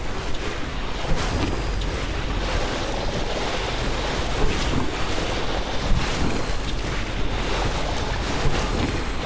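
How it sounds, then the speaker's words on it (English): A steady broadband rush of falling water from a waterfall in the Lightyear Frontier game, continuous and fairly loud, with gentle surges throughout and no talking. "And there's a waterfall here as well."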